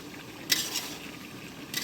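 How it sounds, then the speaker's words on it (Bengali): Meat cooking in a pot, with a couple of sharp metallic clinks of a utensil against the pot and a soft sizzle underneath; quiet and close. "তো এখন এখানে মাংসটা রান্না করছি।"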